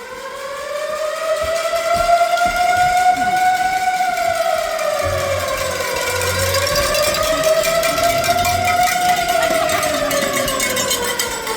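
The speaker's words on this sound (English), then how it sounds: "And there is the infamous siren." A loud siren wails continuously, its pitch rising and falling in slow sweeping cycles, close and dominant with a low rumble underneath.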